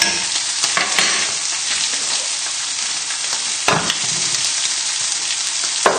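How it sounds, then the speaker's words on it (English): Lamb fries in a pan with a loud, continuous, close sizzle, broken by a few clattering scrapes as a fork stirs the meat. "Give it a little stir with your fork and then pop a lid on it."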